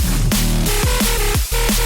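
A drum and bass track plays loud and alone: punchy kicks and snares at a fast tempo drive under a thick, distorted, growling bassline with bright layered synth stabs.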